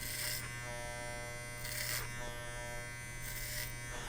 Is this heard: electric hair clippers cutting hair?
yes